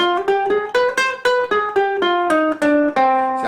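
Ukulele plucking a harmonic minor scale, about a dozen clear single notes in an even rising and falling line, close and bright, played alone.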